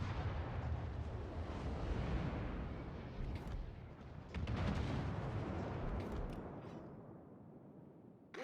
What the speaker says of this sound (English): Feuer auf gegnerisches Kriegsschiff konzentrieren.